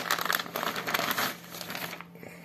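The thin plastic packaging bag around a graphics card crinkles and rustles up close in quick bursts, then quiets toward the end.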